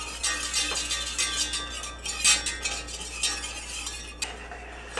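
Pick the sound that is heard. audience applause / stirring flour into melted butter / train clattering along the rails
stirring flour into melted butter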